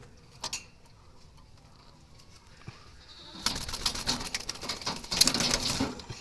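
Jalali wild pigeons kept as domestic birds call with soft, faint coos and rustles, near and intermittent, with a louder stretch of wing flutter and movement toward the end.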